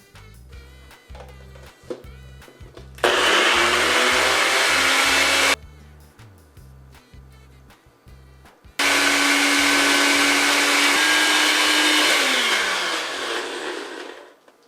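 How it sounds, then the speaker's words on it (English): Food blender pulsing herbs, oregano, parsley and pepper, two loud whirring bursts of a few seconds each, the second one longer and winding down, separated by clunky rhythmic knocking. "that's ready to blend. And I'm gonna pulse all this together first"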